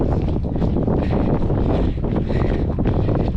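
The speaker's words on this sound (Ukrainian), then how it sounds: "якби піднявся досить сильний вітер" Strong wind blowing head-on buffets the microphone during an outdoor run, with a loud, steady roar and rumble that barely lets up throughout.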